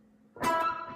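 A single electric guitar note is plucked sharply, rings briefly, then is cut short and damped.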